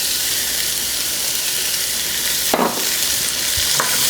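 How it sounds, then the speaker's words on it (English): Chopped onion sizzles in the rendered fat of browned Italian sausage, a continuous loud frying hiss with a couple of brief scraping stirs partway through. "I'm just going to saute this right in the oils from the Italian sausage that we browned up"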